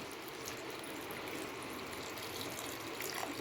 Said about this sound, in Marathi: आपण आता त्यात पाणी ओतणार आहोत